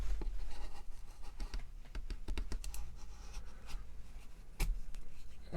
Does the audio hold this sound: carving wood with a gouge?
yes